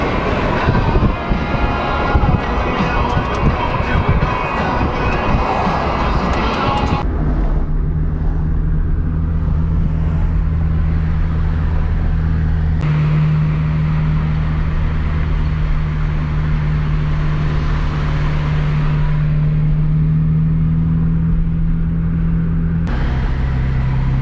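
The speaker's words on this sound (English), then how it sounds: "windows down for maximum draggy brake sound" A Volkswagen Passat B5.5 V6 4Motion drives with dragging brakes and its windows down, giving a loud, steady rumble of road and wind noise with a sustained low drone throughout. A brief harsher burst comes first, and no one speaks.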